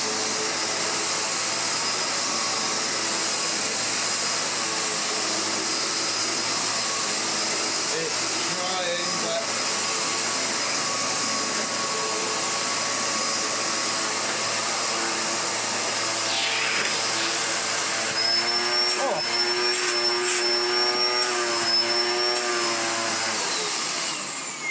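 A restored Hoover DustManager DM4450 vacuum cleaner runs on a new rug with a steady, loud motor whine and airflow roar, its pitch shifting slightly as the head pushes over the pile and catches, with brief higher whistling tones near the end.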